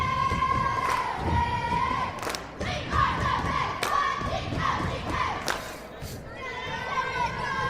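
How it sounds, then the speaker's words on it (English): Crowd at a girls' high school basketball game yelling and chanting loudly with cheerleaders, sustained close shouting voices with a few sharp thuds and bursts throughout. "Cheerleaders are going crazy in front of me. That's what they do best. Getting the crowd all amped up."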